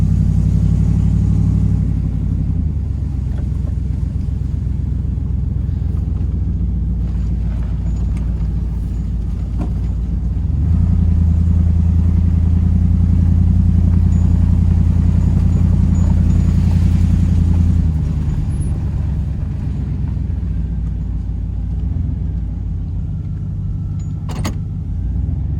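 A $400 pickup truck engine runs steadily close by, a loud low rumble throughout with a slight rise in the middle, and no talk over it.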